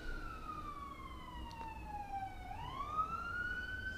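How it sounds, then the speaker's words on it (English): An emergency vehicle siren wails outside, faint and distant, its tone sliding steadily down and then rising again in a single long sweep, with no talk over it. "I have sirens out here."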